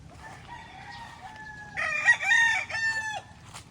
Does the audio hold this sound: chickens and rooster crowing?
yes